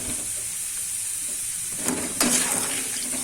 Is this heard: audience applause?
no